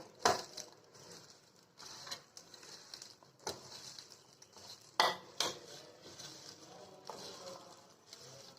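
Biryani mixture being mixed in a bowl, soft metallic clinks and scrapes of a spoon against the bowl coming in irregular bursts, fairly quiet and close.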